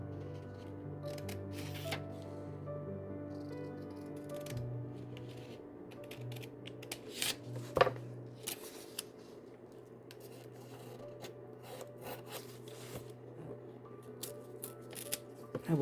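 Scissors snip out a paper image for a butterfly journal, producing faint, irregular crisp cuts and rustles up close over a low background hum.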